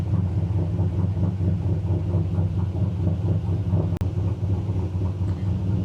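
A car engine, likely a GM LS V8 in an OBS truck, idles at operating temperature: a steady, close, low rumble with an even pulsing rhythm and one sharp click near the end.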